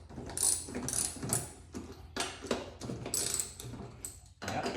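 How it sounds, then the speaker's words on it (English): A 19 mm socket on a ratchet works golf cart lug nuts loose, giving repeated close, loud bursts of rapid ratcheting clicks with short pauses between strokes and no talking. "The socket on this one is 19 mils."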